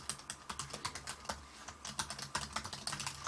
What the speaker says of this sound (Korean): 차라락 차라락 하면서 이렇게 상당히 기분이 좋게 잘 타이핑이 됩니다